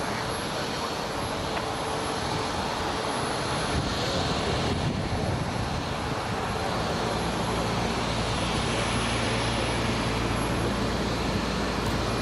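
A Flair Boeing 737 MAX 8 jet airliner passes close by at Toronto Pearson airport, a loud, steady broadband roar of engines and air rush filling the whole stretch with some wind buffeting.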